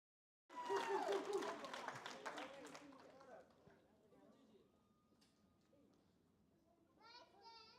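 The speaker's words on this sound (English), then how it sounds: "Let's give Brysten one more round of applause." A round of applause for Brysten at an early signing day announcement: a short burst of clapping and cheering with children's voices, fading into quieter chatter and movement.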